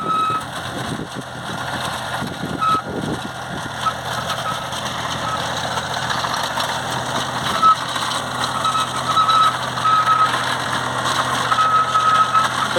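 A tractor engine runs steadily at close range pulling a two-row potato digger, broken by brief high electronic beeps and occasional voices in the background.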